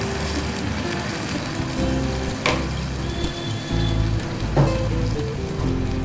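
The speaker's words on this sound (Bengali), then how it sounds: "এবার এতে আমি দিয়ে দিচ্ছি জল ঢেলে দেবো। সেই জলটা হচ্ছে আমার লাউ সিদ্ধ জলটাই আমি দিয়ে দিচ্ছি।" Bottle gourd cooking water poured into a hot pan, producing a steady crackling sizzle and bubbling with a couple of sharp utensil knocks, close and moderately loud, no voices.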